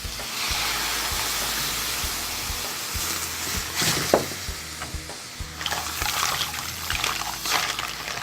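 White wine poured into a hot pan of appetizer ingredients, giving a steady loud sizzle and steamy hiss with scattered crackles and stirring scrapes throughout, no talk.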